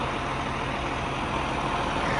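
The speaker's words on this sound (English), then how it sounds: "I think this is actually a little diesel auxiliary motor." A small diesel auxiliary motor on a Condor 150 machine runs at a steady idle, a close, continuous low rumble with no talk.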